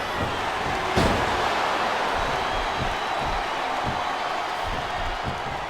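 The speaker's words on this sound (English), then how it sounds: "I love hearing the crowd come alive" Large arena crowd in the SmackDown vs. Raw 2007 wrestling video game roaring in a steady, dense wash of cheering, with a sharp slam-like impact near the start and faint low thuds beneath.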